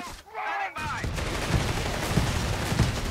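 Rattling bursts of gunfire and distant explosions from the World War II strategy game Company of Heroes 3, in a clash involving Jeeps, with a short synthetic tone at the start before the steady battle noise.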